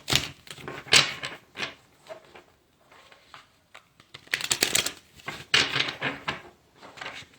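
Tarot cards riffle and slap together in uneven bursts, with quieter rustling in between, close up and without speech.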